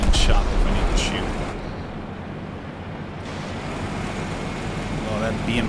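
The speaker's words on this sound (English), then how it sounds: "that BMP is so freaking noisy" Steady, loud low rumble from a noisy BMP armored vehicle engine in War Thunder, a continuous throbbing drone that dips briefly before swelling again, with a voice talking over it.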